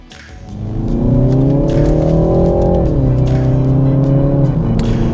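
A BMW 3 Series 330i rental car accelerates in Las Vegas, its engine droning loud and close, pitch rising then dropping at a gear change before climbing again.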